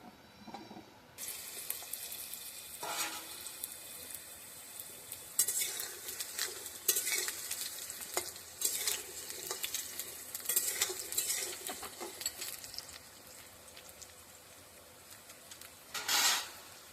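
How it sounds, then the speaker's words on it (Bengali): Potatoes frying in hot oil give a continuous crackling sizzle, broken by bursts of stirring and utensil clatter and a louder spatter near the end, with no voices. "তেলটা আমাদের গরম হয়ে গেছে এবার আমরা প্রথমে আলুটি ভেজে নেব"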